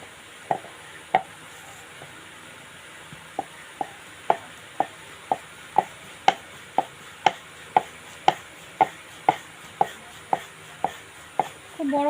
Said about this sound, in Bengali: এবার একটু ময়দা ছিটিয়ে নিয়ে তার মধ্যে বেলে নেব